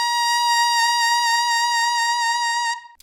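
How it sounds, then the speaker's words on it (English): An alto saxophone holds a single sustained altissimo G, a bright, steady, reedy tone heard alone and close for nearly three seconds before it cuts off. "your fingering for the first Altissimo note on your saxophone is a G"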